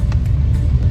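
A resort buggy cart pulls up with a loud, close, steady low motor rumble throughout the short moment, no talking.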